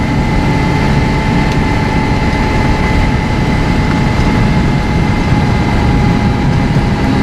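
Steady, loud engine drone inside a MagnaShift-controlled LeSharo motorhome while the transmission sits in lockup, holding a constant low hum with a faint tonal whine and no voices.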